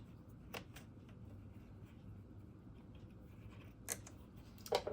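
Quiet snips of scissors cutting yarn from a freshly knitted ribbed beanie, a few faint close cuts over low room hiss, with a slightly louder snip near the end.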